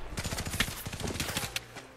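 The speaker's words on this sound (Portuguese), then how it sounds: "Peraí, de onde tá vindo esse tiro?" Rapid automatic gunfire in the video game The Thief rattles out in a dense, fast burst of shots for about two seconds, loud and close, ending with a single louder crack.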